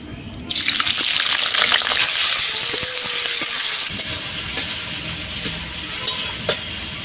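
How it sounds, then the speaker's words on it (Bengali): Chopped onion drops into hot mustard oil in a kadai and bursts into a loud sizzle, then settles into steady frying with sharp clicks and scrapes from stirring. "তেলও গরম হয়ে গেছে, এবারে দিয়ে দিচ্ছি পেঁয়াজ কুচি"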